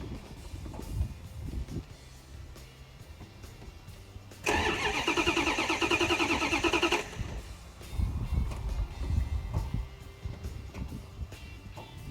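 A fuel-injected 1988 Dodge Ram 4x4 pickup that has sat unused for several years cranks and fires in a loud burst of roughly two and a half seconds, between quieter stretches of shop noise.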